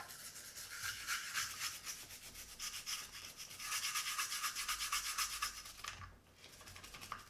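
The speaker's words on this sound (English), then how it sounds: "Just scrub the stippling. Get that gunk out of there." A brush scrubs gunk out of the stippled grip of a Glock 48 pistol frame, close and steady, in rapid back-and-forth strokes with a brief pause near the end.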